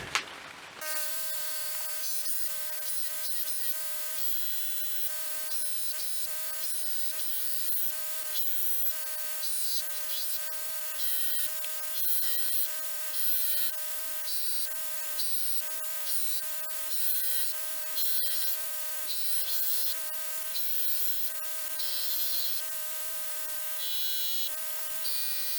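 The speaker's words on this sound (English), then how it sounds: "let's go ahead and get this grinder turned on and get to work." Bench grinder steadily grinding the profile of a steel knife blank, a sustained loud whining hiss with a stable tonal hum and shifting scraping as the blade is pressed, close and continuous without speech.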